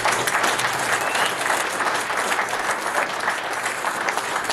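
A crowd at a community unity event applauds after a speech, with dense, loud, sustained clapping and faint cheering throughout.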